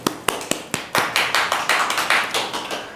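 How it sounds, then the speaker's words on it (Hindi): An audience claps: a few isolated sharp claps at first, then building into steady, loud rhythmic applause from a group close by. "एक बार जोरदार तालियां"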